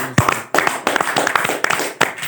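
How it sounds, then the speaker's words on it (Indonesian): Audience applause at an academic discussion on ideal governance in Bima after the 2024 regional elections, heard as a dense, steady patter of hand claps from a crowd, with a few sharper taps close by. "Ini berikan aplaus dulu lah."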